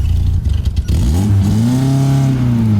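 A Lada Zhiguli converted into a limousine moves off, its engine revving up from low to mid pitch as the car starts away. The engine sounds loud and close, and a brief burst of rustling noise comes just before it.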